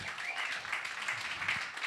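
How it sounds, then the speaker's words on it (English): Steady applause from the audience at a talk story event at Turtle Bay Resort, a crowd clapping continuously and fairly close throughout with no voices on top. "Big round of applause for this lady all the way."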